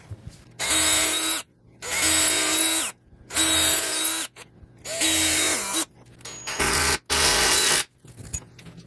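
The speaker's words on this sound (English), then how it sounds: "I'm gonna use 5 screws just because I want this to be well held onto my center post." A power drill drives five screws into a center post while potting a dragon fruit plant, six or seven steady whirring bursts about a second long, close and loud, separated by short pauses.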